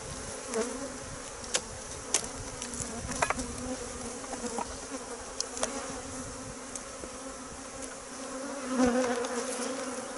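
Honey bees buzzing at an open beehive in spring, a dense steady swarm hum with individual bees droning past close by, and faint clicks of frames being handled.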